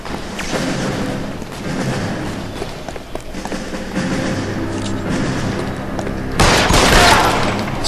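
Sustained gunfire in the video game L.A. Noire, a dense barrage of shots and thuds over a busy game soundscape, growing louder with a sharp burst near the end.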